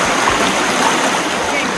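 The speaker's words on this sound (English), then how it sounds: "Look at all the waterfalls." Waterfalls at Zion National Park roar as a loud, dense, continuous rush of falling water, close and unbroken, with a voice heard briefly.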